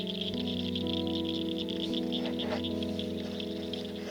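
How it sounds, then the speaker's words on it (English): Frogs call in a steady outdoor chorus, a continuous layered droning and trilling at moderate loudness with no voices. "Can y'all hear them frogs?"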